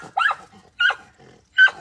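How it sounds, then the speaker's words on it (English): Dogs bark after chasing cats off, three sharp, fairly close barks spaced evenly about three quarters of a second apart, with quiet gaps between. "The dogs have just seen some cats off."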